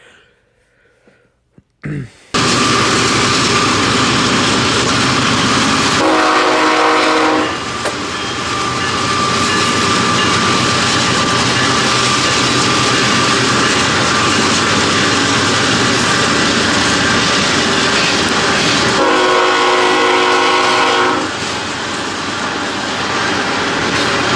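A CN freight train with container cars passes close by, a loud, sustained roar and rumble of wheels on rails running almost unbroken, with two brief horn-like tonal bursts partway through.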